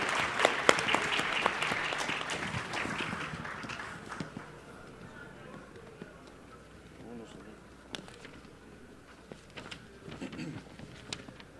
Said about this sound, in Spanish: Él es el ingeniero Sergio Sánchez Morril, para el cual pido un aplauso.